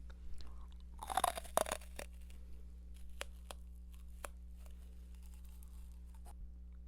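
Someone bites and chews a hard jelly candy bought from a CU convenience store, with a cluster of crunchy, squishy bites close to the mic, then sparse faint clicks over a steady low hum.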